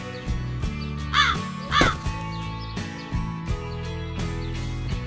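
Crows caw in two loud, harsh bursts close together near the start, with fainter calls afterwards over a steady background tone.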